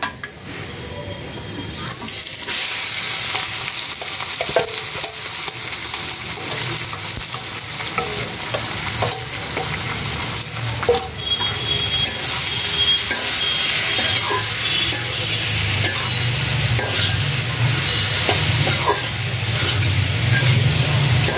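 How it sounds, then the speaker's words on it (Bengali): Onions being sautéed in a pan for hotel-style cooking, a loud continuous sizzle with stirring scrapes that grows fuller and more intense toward the end, no talk. "এখন কষাবো হচ্ছে, একটু কষাই নেব।"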